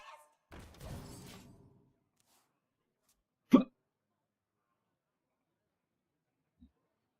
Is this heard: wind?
no